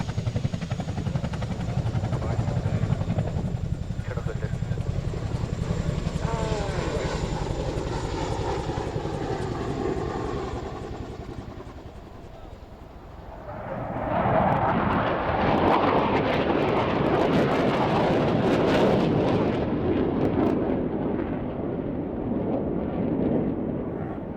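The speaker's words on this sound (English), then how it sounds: "look directly in front of you for the arrival of the Tornadoes" Tornado GR4 jets arrive at the Waddington airshow, a broad roar that swells in from a distance, eases for a moment, then returns louder and fuller, rushing close overhead for several seconds.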